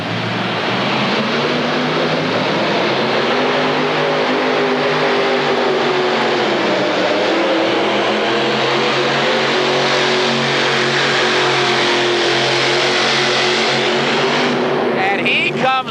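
A loud modified pulling tractor engine roaring at full throttle at a 1986 tractor pull in Indianapolis, a sustained heavy drone that holds and shifts slightly in pitch, dominating the whole stretch.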